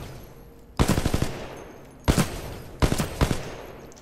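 Three bursts of rapid automatic weapon fire in the video game Titanfall 2, each a loud stuttering volley lasting under a second, separated by short pauses.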